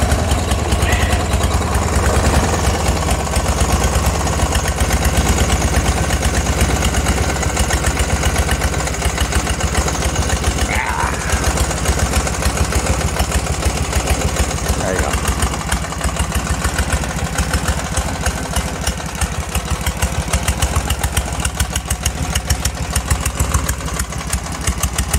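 Scag Hydro zero-turn mower engine idling and refusing to shut off, a steady loud throbbing run that carries on for the whole stretch with no voices.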